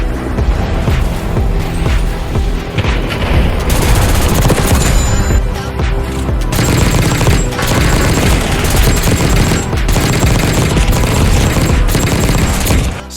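Sustained automatic fire from a GPMG 7 machine gun in Black Ops 6, a dense, loud, continuous rattle of rapid shots with a few brief pauses, steady throughout with no talking.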